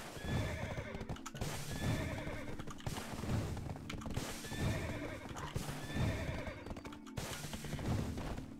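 A horse walks in the game Black Desert Online, its steady clip-clop hooves repeating in an even loop with recurring neighs and whinnies, loud and close, with no talking.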